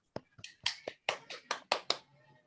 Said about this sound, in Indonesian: kita kasih tepuk tangan untuk kelompok Rusni.